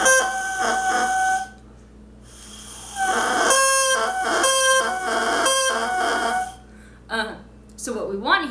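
A bassoon reed is blown on its own, giving raspy, crowing squawks with several pitches mixed in. Short bursts are broken by pauses, close and fairly loud.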